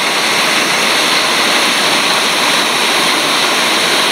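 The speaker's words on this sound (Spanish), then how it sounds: "increíble la tormenta. Cayó de golpe sin avisar." A sudden heavy rainstorm pours down in Alcorcón, a dense, steady roar of rain hissing without pause, close and loud with no voices.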